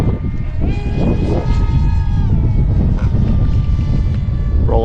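An Astro Z 800mm RC pusher jet on 4S power screams at full throttle on a windy day, a loud, near electric whine shifting in pitch over gusty wind noise on the microphone.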